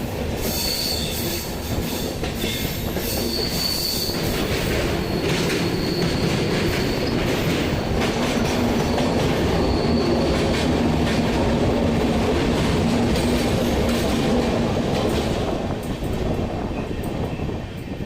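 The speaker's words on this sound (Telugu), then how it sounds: "ఇప్పుడు ట్రైన్ అయితే ఆ వాటర్ ఫాల్స్ దగ్గరికే వెళ్తుందండి." Train on the Vizag to Araku hill line heading toward waterfalls, running continuously with loud rolling wheel noise, rhythmic clickety-clack and intermittent high wheel squeal on curves, close and steady throughout.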